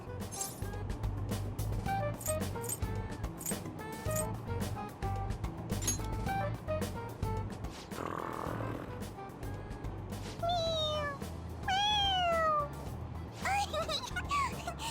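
Pressed on the head, a toy cat in Persona 5 Royal gives a few short electronic meows late in the stretch, close and clear, after busy game music and voiced chatter.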